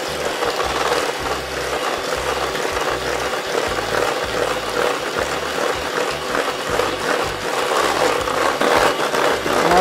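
An electric mixer beats homemade vanilla cake batter with oil added, a loud continuous whirring with a rough, rattling pulse that runs steadily without pause.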